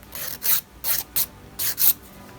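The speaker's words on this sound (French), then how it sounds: "on tient sa lime légèrement en oblique et on vient finir l'ongle" A nail file rasps over a gel nail tip held at a slight angle, with five or six short, bright strokes in quick succession, close and crisp, without any voices.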